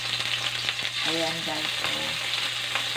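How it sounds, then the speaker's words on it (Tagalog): Pieces of pork fat sauté in a small amount of oil for sinigang, giving a steady, close sizzle with light stirring throughout, while a person talks briefly over it in the middle. "So igisa ko muna yung taba."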